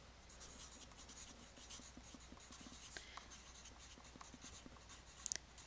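Quiet scratchy strokes of writing on a board during a math lesson on slopes, a steady run of soft marks and taps with no voice over them.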